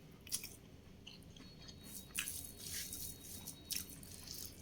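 Someone chews chuda, flattened rice, close to the mic. Soft, moist crunches and bites come in irregular bursts over a quiet background, with no speech.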